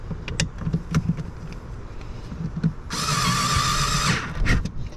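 A power tool whirs for about a second, driving a T27 bolt back into the fender of a Sea-Doo GTX personal watercraft, between soft handling knocks and taps.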